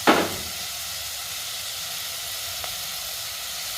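Green chillies dropped into hot oil: a loud initial sizzle burst that settles into a steady, even hiss of frying with one faint pop partway through.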